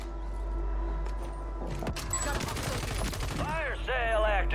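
Rapid bursts of MP40 submachine gun fire in a first-person shooter game ring out over steady background noise, with mechanical clicks and a few short tonal game sounds near the end.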